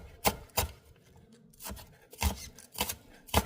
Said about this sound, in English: Now I'm going to chop up the celery.